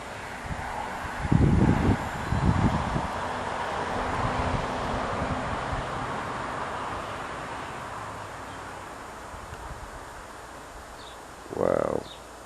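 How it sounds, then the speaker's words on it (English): Strong outdoor wind gusts buffet the microphone with a broad roaring rush, swelling in heavy bursts early on and then easing to a steady blow, with a brief voice sound near the end. "Wow, it's real windy now."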